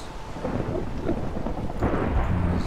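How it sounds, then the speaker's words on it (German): A Minecraft thunderstorm rumbles with a steady wash of rain, and a louder crack of thunder rolls in toward the end, with no voices present. "Gewitter. Ich habe Angst vor Gewitter."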